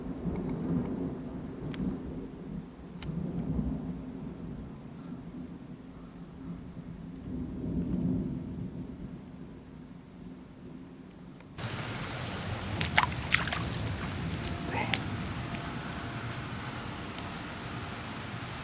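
A heavy thunderstorm with heavy rain: low rolling rumbles swell and fade under a steady rain wash, then a much louder, closer patter of pouring rain and water takes over for the rest of the clip.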